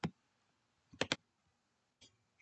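Computer mouse clicks during a tutorial on ranking web videos: a sharp single click, then a quick double click about a second later and another lighter click, close and crisp over near silence.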